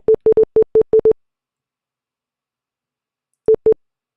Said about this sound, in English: every time I clicked, it beeped